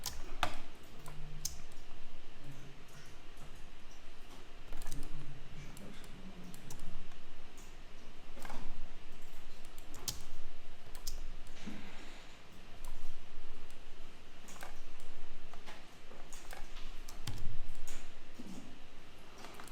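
A computer mouse clicks in quick, irregular bursts while someone traces in Adobe software. The clicks are close and faint, with no talking.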